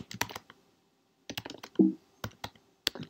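Computer keyboard typing comes in short bursts of crisp, close key clicks separated by brief pauses, quiet and with no talking.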